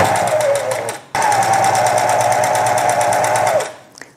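Domestic sewing machine running a normal straight stitch along a seam allowance on a small fabric piece, a loud close rapid mechanical whir with one brief pause before continuing, then winding down at the end.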